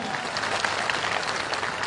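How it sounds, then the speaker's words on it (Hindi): At a Bundeli festival, a large outdoor crowd gives loud, steady applause for the chief minister of Madhya Pradesh, the clapping filling the space evenly for the whole short moment. "जोरदार तालियों से अभिनंदन करें"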